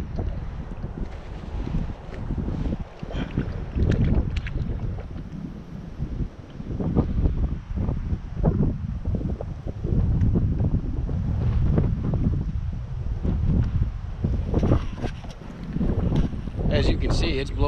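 Gusty wind buffeting the microphone on an open fishing boat out on the water, rising and falling in heavy rumbling bursts throughout.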